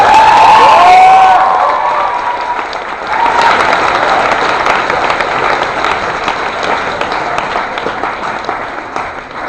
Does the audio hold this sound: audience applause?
yes